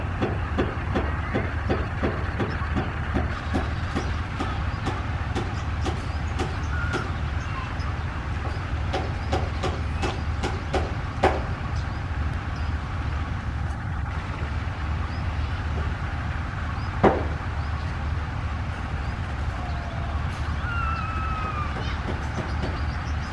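A train stands at Wanaraja railway station. A low steady engine idle hums throughout, with bursts of sharp rhythmic clicks and knocks early on and a few isolated clanks later, recorded nearby.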